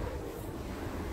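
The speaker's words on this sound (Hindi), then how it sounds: "देखो इधर से पानी आ रहा है डोर से।" Floodwater running into a house through the doorway, a steady broadband rushing wash that stays continuous and fairly loud throughout, with no voices.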